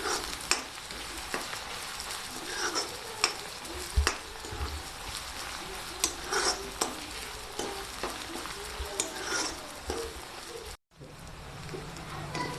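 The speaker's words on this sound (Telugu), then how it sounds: "మంచిగా ఆనియన్స్ గోల్డ్ వరకు ఇలా కలుపుకుంటూ ఉండాలి." Onions and fresh mint fry in oil in a pan for a chicken curry, stirred steadily until golden. The continuous close sizzle is broken by repeated spoon scrapes and taps, with a brief pause near the end.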